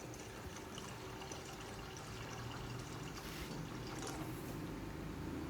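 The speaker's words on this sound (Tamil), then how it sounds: "நல்லா கழுவுனதுக்கு அப்புறமா இதில் தண்ணி ஊற்றி ஒரு 2 மணி நேரம் நல்லா ஊற வச்சிடலாம்." Water pours steadily into a bowl of washed chana dal set to soak for a ladoo recipe, a continuous close splashing and trickling wash with no speech.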